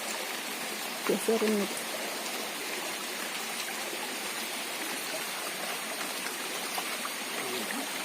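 Water runs steadily along a small side channel beside a farm plantation, a constant close rushing flow with a brief voice heard early on.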